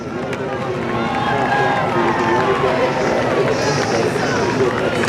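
A huge crowd of spectators along the Esplanade in Melbourne at a men's Commonwealth Games triathlon, a loud continuous roar and babble of cheering under a commentator's voice.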